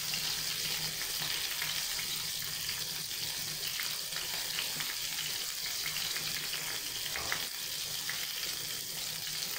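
Chicken pieces frying in a pan for sinigang, a constant dense sizzle and crackle at steady level throughout, with no voices.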